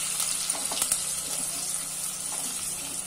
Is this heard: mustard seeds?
yes